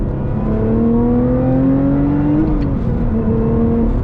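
A 2021 Lotus Evora GT engine drones loudly and close, its pitch climbing steadily as it revs, then drops briefly with a gear change before pulling again.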